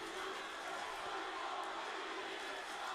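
Wrestling arena crowd chanting at The New Day, a dense, steady wash of many voices filling the venue, distant and sustained with no distinct words.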